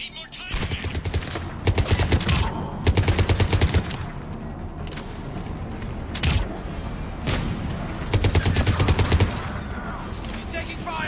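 Gunfire in a Mass Effect 3 battle on Tuchanka: rapid automatic bursts and single heavy shots crackling in repeated volleys, loud and close, with dense combat noise between bursts.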